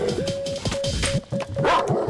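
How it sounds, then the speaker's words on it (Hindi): A dog barks several times in a Hindi action movie scene, short loud yaps over a steady sustained tone and background soundtrack noise. "तू डरना मत, कुत्ता ही तो है"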